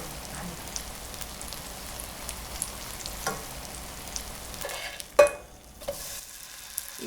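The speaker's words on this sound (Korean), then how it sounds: "버터 설탕 바른 면을 밑으로 가게 해서 구워주시면서 발라지지 않은 윗면에 또 설탕 버터를 발라주세요." Bread spread with butter and sugar toasts in a frying pan over medium heat for a dalgona toast, a soft continuous crackling sizzle with a few scraping and tapping knocks near the end.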